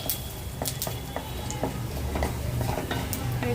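Cumin seeds and bay leaf dropped into hot mustard oil give a steady close sizzle, with light clinks and scrapes of a spoon stirring in the pan and no talk.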